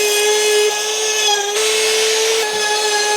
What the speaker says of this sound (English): I'm gonna just route the edges because I think it's gonna make it a little better